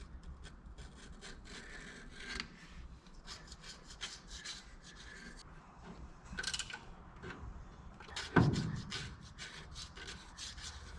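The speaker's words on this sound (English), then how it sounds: "Now we gotta scrape off the whole balancer, because if not, she's gonna be out of balance." Scraping at the harmonic balancer on a 1976 GMC engine, a steady gritty rubbing and rasping that repeats in uneven strokes, close and moderately loud, with one sharper scrape near the end.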